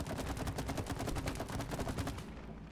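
Rapid automatic gunfire from the co-op video game It Takes Two rattles in a dense, continuous burst that fades near the end, with no voices.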